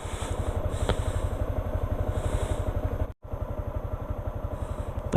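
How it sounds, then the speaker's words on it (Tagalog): A Yamaha Sniper 155 motorcycle idles close by as it warms up in the early morning, with a steady rapid thumping putter and a brief dip in the sound partway through. "Painitan lang natin ng konti yung makina natin"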